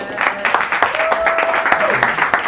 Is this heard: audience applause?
yes